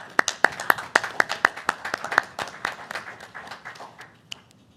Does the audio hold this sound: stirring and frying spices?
no